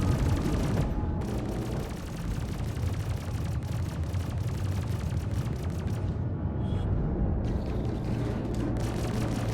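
A bunker turret firing in a space combat game, loud sustained rapid shots rattling almost without a break, with heavy low rumble beneath and a brief lull near the end.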